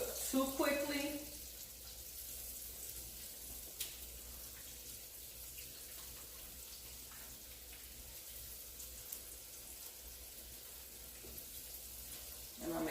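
Battered cauliflower florets frying in a pan over medium heat, a quiet steady sizzle throughout with a brief louder clatter at the start and a few faint ticks.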